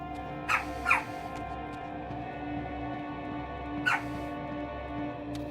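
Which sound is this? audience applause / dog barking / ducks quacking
dog barking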